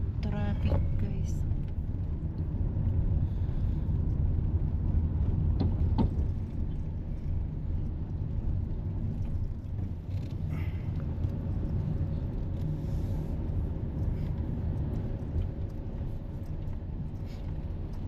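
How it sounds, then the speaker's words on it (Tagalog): Steady road traffic in a New Zealand city street: a continuous low rumble of cars driving past, with people talking faintly over it. "Traffic guys."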